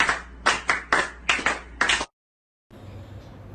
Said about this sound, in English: please clap for me